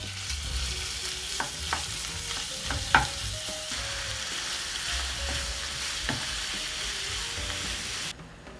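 Meat dropped into well-heated oil for a stuffed potato-yuca filling, frying with a steady low sizzle and scattered pops and clinks from stirring, then cutting off near the end.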